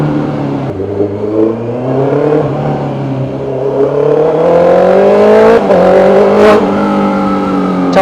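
Honda CB650R inline-four 650cc motorcycle engine revving loud and close, pitch climbing in rising sweeps with a brief drop before another sharp rev near the end.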